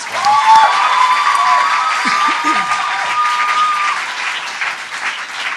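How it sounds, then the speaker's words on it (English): An audience applauds at a teaching award ceremony, steady loud clapping filling the room, with some cheering and a few voices mixed in. "So let's applaud that"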